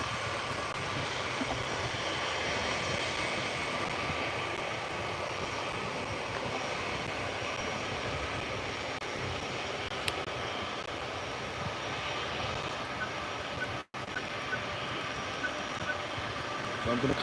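A large military jet aircraft rolls down the runway at RAF Lakenheath, heard from a distance as a steady, broad engine roar that holds constant throughout, with a brief dropout near the end.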